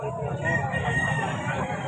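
Roosters crowing at a chicken market in Bulacan, overlapping calls close by, with clucking fowl and busy market murmur beneath.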